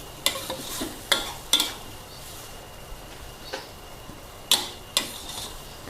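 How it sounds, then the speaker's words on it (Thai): Sweet leaf, egg, glass noodles and dried shrimp stir-fry with sauce over the highest heat: sharp spatula taps against the pan come in scattered pairs over a soft, low sizzle, with no speech. "ทีนี้เราก็ผัดทุกอย่างให้แห้งเลย"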